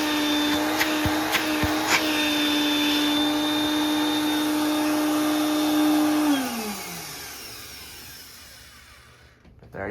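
A 1987 Regina Housekeeper 1000 upright vacuum cleaner runs with a loud, steady motor whine and airflow roar, then powers down, the pitch sliding lower as it winds to a stop near the end.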